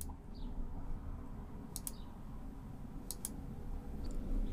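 Mouse button clicks in Windows 10 while confirming a network adapter reset: two or three short, crisp clicks spaced about a second apart over a low, steady background hum.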